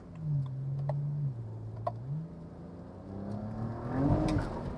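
A BMW E92 335i on Gecko coilovers accelerating in second gear with wheelspin, its engine note rising and dipping then climbing again, moderately distant and fairly quiet, with no one talking.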